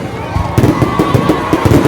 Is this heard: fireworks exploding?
yes